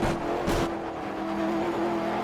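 GT3 race car engine in Project CARS on Xbox One, holding a steady high-rev drone with a brief surge, loud and close.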